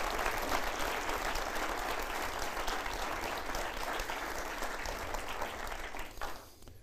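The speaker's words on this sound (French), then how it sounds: "Merci de les applaudir." Sustained applause from an audience at an evening leadership awards ceremony, dense and steady throughout before tapering slightly at the very end.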